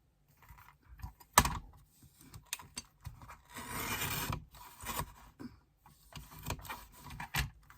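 A paper trimmer slices a scrapbooking card up close: scattered clicks and taps of handling, then a sustained scraping rasp of the blade drawn through the card, followed by more sharp clicks.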